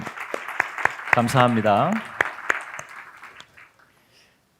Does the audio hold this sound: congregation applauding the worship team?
yes